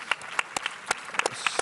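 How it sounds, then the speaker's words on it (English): Scattered clapping from a small audience at a women's forum panel in Dubai, a handful of separate claps spread unevenly rather than a full ovation. "Big round of applause for her"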